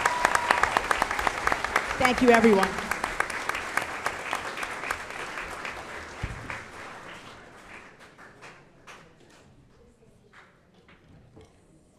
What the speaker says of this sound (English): If we could just have a really nice round of applause for all of our recipients.